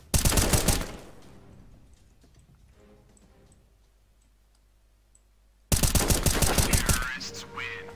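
Bursts of rapid automatic gunfire ring out in the video game CS:GO, loud clustered shots at the start and again near the end with a quieter stretch of faint clicks between.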